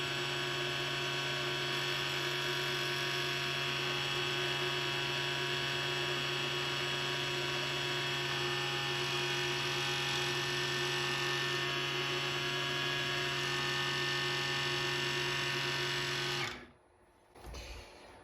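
A Proxxon MF70 mini milling machine motor whines in a steady, even hum for most of the stretch, then cuts off abruptly near the end, leaving a few faint knocks.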